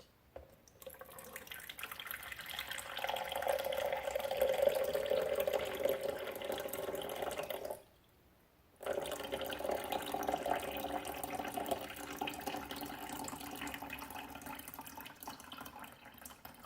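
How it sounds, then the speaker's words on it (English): Water poured into a Cuisinart coffee maker's reservoir, a soft continuous trickling and splashing that runs for several seconds, breaks off briefly, then resumes, heard close up in a quiet kitchen. "This is my water here. I'm going to pour that in first."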